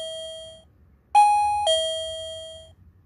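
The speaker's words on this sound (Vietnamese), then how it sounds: "mình đợi nó chớp và nó kêu hết chuông thì ok" An AT-216 guest-alert doorbell chime rings after being plugged back in during a reset, giving a clear, loud electronic ding-dong of two bright tones with a sustained ringing tail, alone in a quiet room.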